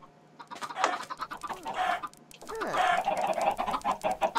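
Chickens in an automatic chicken farm in a video game, clucking and squawking in overlapping bursts, growing busier and louder toward the end, close and with no talk.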